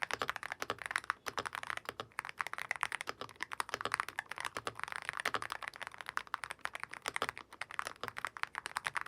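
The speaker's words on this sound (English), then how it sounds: "here's a little sound test" Rapid, continuous typing on a wireless magnetic gaming keyboard, with dense clacking keystrokes close up and clear, no voices.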